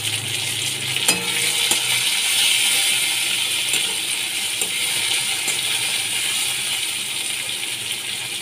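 Onion and chopped tomato fry in a pan for an aloo matar dish, giving a steady, close hiss and sizzle throughout, with a few scrapes and clicks of stirring on top.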